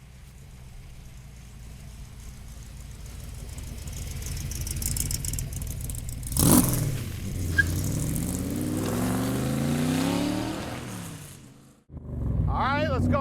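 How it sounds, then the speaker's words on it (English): Factory Five 1965 Shelby Cobra replica with its engine running steadily and rising in pitch as it pulls away, loud and close, with a brief louder burst midway and the sound dropping out near the end. "let's go for a ride in this Factory 5"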